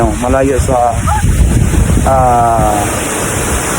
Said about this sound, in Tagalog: Ayan, ito yung falls niya.